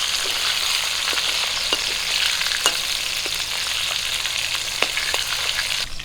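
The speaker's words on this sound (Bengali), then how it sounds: "মাছের তেল দেখুন ছিটকাইতেছে যে ছিটকাই ছিটকা পড়ে গেছে" Pieces of pangas fish fry in hot oil, a loud continuous sizzle scattered with sharp spattering pops throughout, with no talk.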